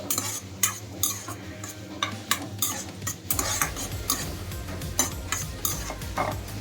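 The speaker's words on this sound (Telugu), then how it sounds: "కిస్మిస్, జీడిపప్పు దోరగా వేగాలి." Cashews and raisins frying in a pan for banana kesari bath, a soft sizzle beneath busy, repeated scraping and clinking of a metal spoon stirring close by, with no talking.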